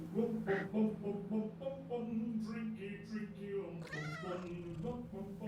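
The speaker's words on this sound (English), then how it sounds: "There's that cat again." A cat meows repeatedly in a series of drawn-out, wavering calls that rise toward a caterwaul, heard close under a continuous low hum.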